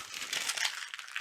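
Paper is crumpled by hand, a dense crackling rustle that runs steadily and close with no speech over it.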